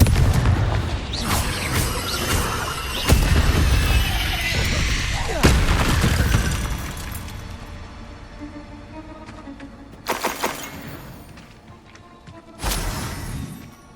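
Confringo blasting spells in Hogwarts Legacy, a string of heavy booms and crashing explosions that loom loud at first, then fade, with a few sharper blasts spaced apart near the end.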